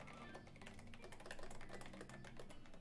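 Rapid, fairly faint clacking keystrokes on a loud mechanical keyboard with a stainless steel plate and foam inside, typed in quick uneven bursts with no voices.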